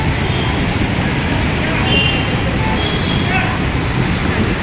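Steady road traffic roars past outside Orion Mall in Panvel, a continuous broadband rumble of passing cars and heavier vehicles heard close by, with voices faintly mixed in.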